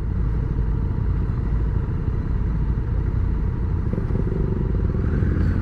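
A motorcycle rides on asphalt during a test ride at an adventure bike meeting in Lavrio, its engine droning loudly and continuously up close with wind rush and no talk.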